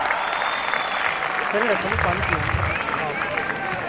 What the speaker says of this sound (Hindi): निखिल महाजन के लिए जोरदार तालियां।